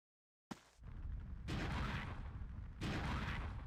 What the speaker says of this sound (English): What is with the squishing explosions?